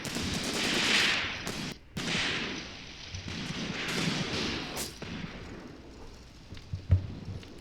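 Gunfire in the war game Graviteam Tactics, with sharp distant shots and bursts cracking out irregularly over a background rumble of battle, moderately quiet overall.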